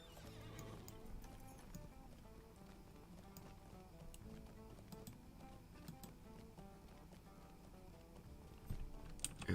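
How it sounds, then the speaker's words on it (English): A horse in a LEGO video game, ridden through the town of Bree, plods with steady, quiet clip-clopping hooves and whinnies, set against low background music. "Get on my horse."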